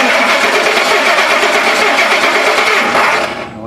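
A 2008 Ford F-250 with the 5.4 3V engine cranks over steadily, a loud, even starter churn held close for about three seconds before it winds down and cuts off.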